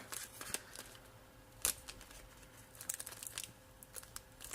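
Crisp snipping and crinkling sounds, a few sharp cuts spread irregularly over quiet handling noise, close by.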